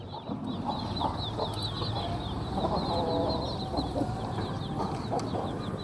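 A rooster of the pedarekkala type crows and clucks amid other fowl, the calls repeating over a steady farmyard hum at moderate distance.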